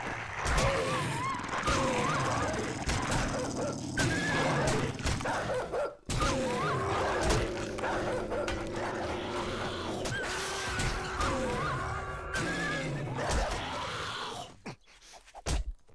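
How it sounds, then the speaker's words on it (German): Zombie dogs in the survival game 7 Days to Die, snarling, growling and barking close by amid thuds and crashing, with a sudden break midway and a quieter tail. "das sind Hunde"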